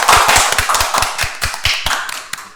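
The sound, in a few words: audience clapping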